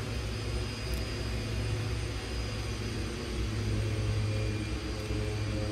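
Steady, loud, continuous drone of a simulated aircraft engine in X-Plane 10, with the throttle pulled almost all the way back.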